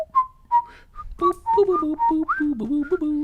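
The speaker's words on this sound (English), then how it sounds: "can't get those notes exactly right when whistling" A person whistles a short run of clear, wavering notes, close and fairly loud, some held and some sliding up and down, with small gaps between phrases.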